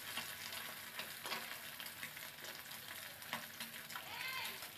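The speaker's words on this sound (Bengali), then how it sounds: "মাছগুলো ভাজা হয়েছে, এখন নামিয়ে নেব।" Small mourola fish frying in oil in a kadai, a faint but continuous crackling sizzle with occasional bursts of spatter.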